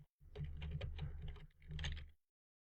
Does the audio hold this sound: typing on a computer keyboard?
yes